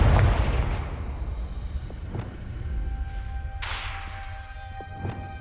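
A Confringo blasting spell explodes in the Hogwarts Legacy video game: a heavy low boom at the start that fades into a rumbling tail, with fainter magical impacts and chimes following.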